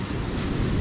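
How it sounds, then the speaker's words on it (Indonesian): Ocean waves at Bakung beach in Pacitan, a brief loud rush of surf mixed with wind buffeting close to the microphone. "ombak di sini cukup besar ya teman-teman"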